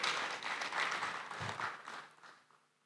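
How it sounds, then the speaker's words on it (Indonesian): Congregation applauding in a church during a Sunday service, a dense wash of clapping that starts loud and gradually thins and fades out over a few seconds. "Beri tepuk tangan buat Tuhan yang mulia."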